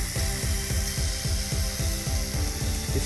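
A steam pressure cooker on the stove, cooking alongside a pasta meat sauce, gives a steady rapid rattle and hiss with a regular jiggling beat, loud and close, running alone without talk.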